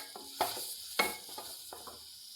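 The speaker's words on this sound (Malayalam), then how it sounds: "ഒന്ന് നല്ലോണം വാട്ടിയെടുക്കാം." Green chillies sautéing in a pan for kothu chapathi, a steady close sizzle broken by a few sharp scraping stir strokes, with no talking.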